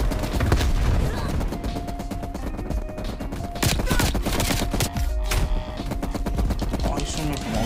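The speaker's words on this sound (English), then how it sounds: "he's shooting me from over there" Rapid automatic gunfire and scattered single shots from Call of Duty: Cold War multiplayer play on and off over several seconds, loud and dense, with game effects mixed in and a voice talking faintly at times.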